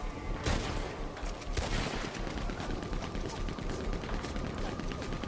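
Gunfire in the Red Dead Online video game rings out as several loud, sharp shots spaced irregularly over a busy, noisy game background.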